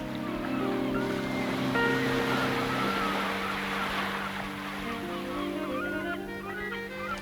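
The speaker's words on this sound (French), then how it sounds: "le bruissement continu de l'océan vous berce" Ocean waves wash continuously against the shore in a steady broad rushing roar, with a low rumble and wind mixed in and no distinct breaks.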